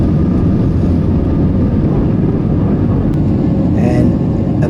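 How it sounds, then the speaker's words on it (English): IndiGo airliner engines at takeoff, heard from inside the cabin as the jet speeds down the runway at Bangalore and climbs away: a loud, steady broadband roar that holds constant throughout. "We are speeding down the runway"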